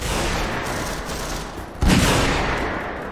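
Gunfire in the virtual reality shooter Half-Life VR: a steady wash of rapid shots and combat noise with one sharper, heavier blast near the middle, loud and continuous throughout.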